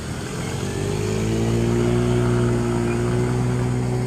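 A motorcycle engine revs hard and steadily as it rides through flood water on a street in Banda Aceh after heavy rain, loud and near throughout, its pitch climbing slightly with no speech.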